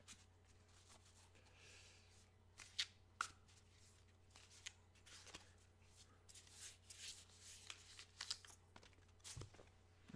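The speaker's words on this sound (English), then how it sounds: "I keep dropping cards. It's just" Cards from a brand new deck shuffled, handled and dropped, with soft irregular riffling, slaps and papery flicks spread across the clip; a few sharper taps stand out over a steady low background hum.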